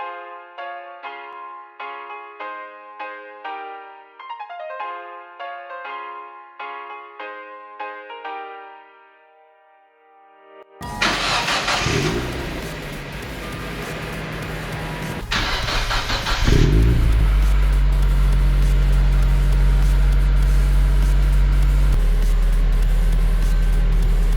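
A 2001–2005 NB Mazda Miata fitted with a Racing Beat catless race pipe cranks and fires up after a stretch of electronic chimes, then settles into a loud, deep, steady idle with a brief rev partway through.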